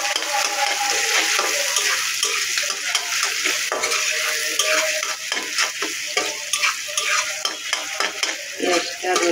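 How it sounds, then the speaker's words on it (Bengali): Chopped onion and garlic fry in oil while a spatula stirs and scrapes the pan, a loud steady sizzle close by punctuated by repeated clinks and scrapes, with no talk. "পেঁয়াজটা রসুনটা একটু বাদামি কালার করে ভেজে নেব"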